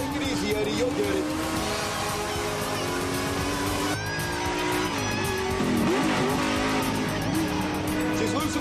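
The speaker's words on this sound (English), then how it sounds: "Drop the hammer on the straightaway, Thomas. I want that pole position." A race car accelerates along a track straightaway, the engine roaring and shifting pitch with a brief tire squeal, loud and continuous while people talk over it.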